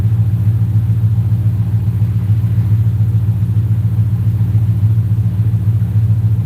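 A Ford 4.6 Savage engine at operating temperature idles steadily through an idle-tuning session, giving a continuous low, even rumble with a faint rhythmic pulse, close and loud, with no voices.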